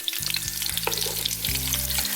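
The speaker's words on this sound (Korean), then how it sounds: "전체적으로 다 노릇노릇하게 약간 튀김을 하듯이 튀겨지듯이 유부 색깔이 나오게끔" Drained tofu fries in plenty of oil in a pan, giving a steady close crackling sizzle with a few stirring scrapes and no talking.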